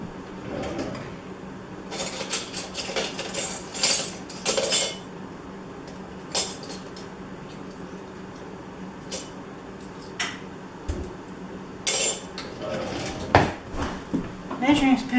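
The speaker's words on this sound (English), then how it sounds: "Measuring spoons are stuck together." Light metallic clinks and clatters of small utensils come in scattered bursts over a quiet room background.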